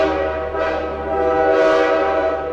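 A train whistle sounds loud and sustained across the whole stretch as a steady harmonic tone that swells slightly, with rumbling rail noise beneath it and no voices.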